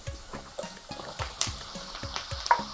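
Mushrooms and softened onion sautéing in a pan for a mushroom frittata, with close sizzling and a run of repeated stirring scrapes at a quick, fairly even rhythm.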